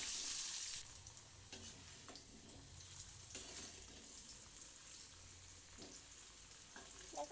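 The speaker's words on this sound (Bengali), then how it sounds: "আমরা ফার্স্টে আলুগুলোকে ভেজে নেব" Potato pieces frying in a pan with turmeric and salt for a home chicken curry, a soft continuous sizzle with occasional stirring scrapes and faint watery sounds, quiet and without talk.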